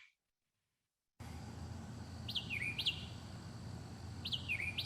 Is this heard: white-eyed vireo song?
yes